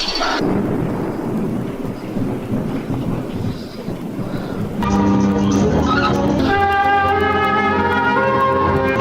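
Thunder rumbles over steady heavy rain in a stormy night scene, the storm noise continuous throughout, with a swell of dramatic orchestral music entering midway and carrying on over the downpour.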